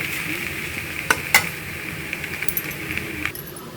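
Potato pieces, ginger and green chilies frying over low heat in a pan, soft sizzling under a few sharp metallic clinks and scrapes as a spatula stirs them, close and steady with no talking.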